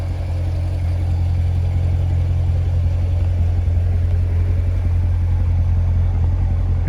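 A 2017 Corvette Grand Sport 2LT gives off a steady, deep exhaust rumble that holds an even, close, loud drone throughout, with no voices over it.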